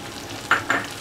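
Green chillies drop into melted butter in a pan over a high flame, giving two short bursts of sizzling over a steady background hiss.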